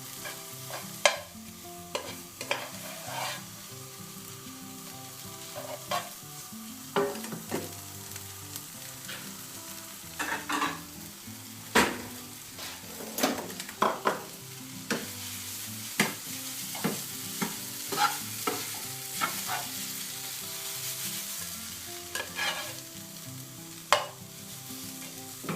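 Vegetarian spicy noodles are stir-fried in a pan, with continuous sizzling and intermittent sharp scrapes and clinks as they are tossed, all under gentle background music.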